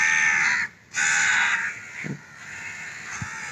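Crows cawing in two harsh, loud bursts close by, followed by quieter distant caws and a few soft knocks.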